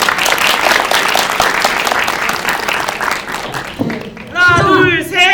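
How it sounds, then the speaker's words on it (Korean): An audience at a Korean press conference and film preview claps steadily for several seconds; the applause fades, then a voice speaks loudly over the last of it. "베넷 여러분들께도 존경의 박수를 좀 보내고 싶습니다"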